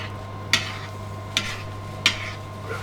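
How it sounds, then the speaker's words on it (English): Spoon stirring a dark beef bourguignon braised in red wine and beef stock in a pot: three or four distinct scraping knocks spaced about a second apart over a low, steady background hum, close and alone. "Give it a stir."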